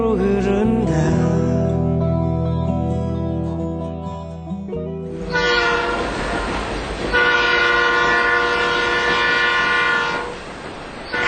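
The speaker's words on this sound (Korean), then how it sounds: "갑자기 비명처럼 기적 소리가 울렸다" A steam train's whistle sounds close and loud, one long sustained blast then a second, over the rumble and rhythmic clatter of rolling railcars.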